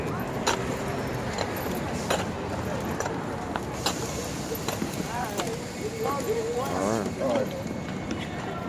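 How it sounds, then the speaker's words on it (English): A big horse passes along a city street, its hooves clip-clopping in an irregular rhythm on the pavement, close and fairly loud, while people nearby talk over the sound. "We just had to move out the way from a big horse that came through."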